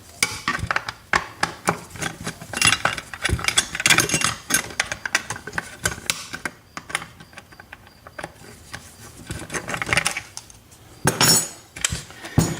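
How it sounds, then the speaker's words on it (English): A safe's back cover is pried off at a locksmith's bench, giving a dense run of metallic clicks, clanks and rattles in irregular bursts, close up, with brief pauses and no one talking. "the back of the safe, let me pop the cover real quick for you"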